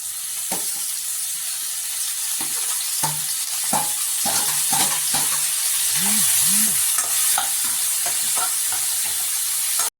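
Chopped tomatoes frying in an oiled pan with curry leaves and green chillies for Tamil thakkali thokku, a steady close sizzle broken by irregular spoon scrapes and stirring clatter.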